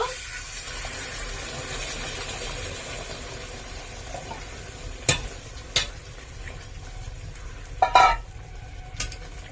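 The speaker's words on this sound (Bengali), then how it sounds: "এখন আমি জল দিয়ে দেব।" Water poured into a pan of frying chicken curry sizzles and bubbles steadily, with a few sharp clanks of a utensil against the pot near the end.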